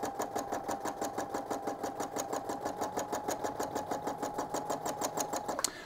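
Sewing machine stitching fill over an eyebrow area on a glow-in-the-dark sugar skull quilt at a medium pace, a rapid even mechanical chatter with a whirring motor, close and steady before stopping.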